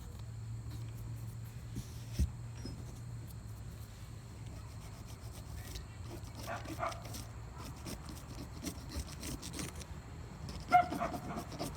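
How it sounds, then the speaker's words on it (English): Dogs bark and whimper faintly in the background during a home Mod Podge jewelry-box craft session, mixed with soft rubbing and handling noises close by. "Sorry if y'all hear dogs or whatever else"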